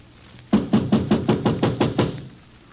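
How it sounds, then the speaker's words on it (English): Eight evenly spaced knocks rap on a door as a radio drama sound effect, close and loud, with no voices over them. "I will knock."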